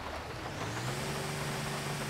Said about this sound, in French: C'est un moteur de camion.